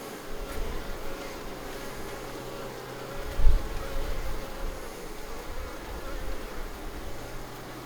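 Honeybees on a dry-looking comb frame of empty stores hum in a soft, continuous drone throughout, with a brief louder thump midway and a faint airy background.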